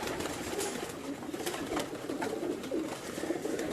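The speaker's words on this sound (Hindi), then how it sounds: "ये सेबे वाले कबूतर हैं जी।" Sebe wale pigeons coo in soft, repeated low calls, close by, over a steady noisy background with no talk.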